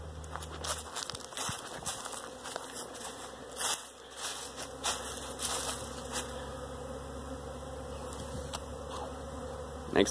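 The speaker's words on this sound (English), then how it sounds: "listen to some more bee buzzing" Honey bees buzz around overwintered hives in a steady, faint drone, with soft footsteps and crunching as someone walks past the hives outdoors.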